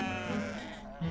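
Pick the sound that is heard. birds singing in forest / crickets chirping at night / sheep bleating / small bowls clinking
sheep bleating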